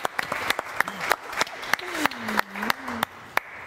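Scattered audience clapping on a German film talk show, sharp separate claps rather than a full ovation, mixed with people talking and brief vocal sounds.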